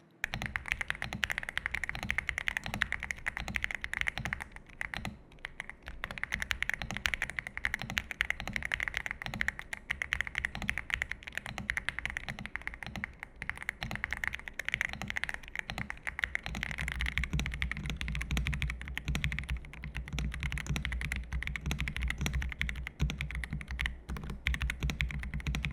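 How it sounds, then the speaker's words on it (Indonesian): Mechanical keyboards being typed on for a sound test, a steady stream of dense, fast keystroke clicks and clacks heard close and alone for the whole stretch, with no talking. "berikut sound test untuk kedua keyboard ini"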